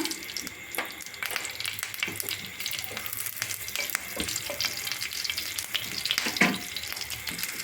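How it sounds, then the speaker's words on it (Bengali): Nigella seeds and slit green chilies crackle and spit in hot mustard oil, a steady close sizzle with scattered sharp pops and a brief louder burst near the end; no voices. "তেল গরম হয়ে গেছে ফোড়নে দেব কালো জিরে চেরা কাঁচা লঙ্কা"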